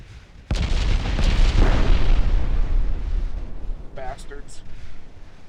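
A heavy naval gun salvo booms in the warship game Ultimate Admiral Dreadnoughts, a sudden loud blast followed by a long rumbling roar of explosions that slowly fades, with brief higher tones near the end.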